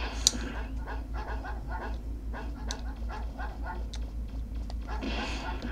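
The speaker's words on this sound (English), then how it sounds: "Damn you, dogs." Dogs in the video game Mega Man Legends, a run of repeated barks and yips with some whimpering, steady and fairly close against a low constant hum, with no speech.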